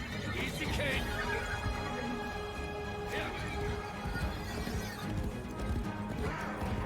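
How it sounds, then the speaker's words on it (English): A horse galloping with clip-clop hoofbeats and a whinny in the Warframe video game, heard at a Tennocon 2022 showing, with steady dense game audio and a voice talking over it. "El caballo, güey."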